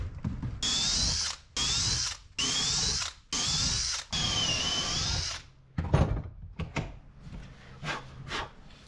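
A power drill bores Kreg pocket holes into wood for boat brightwork aboard a wooden boat: four long, loud whining bursts separated by short pauses, followed by lighter clattering and handling noises.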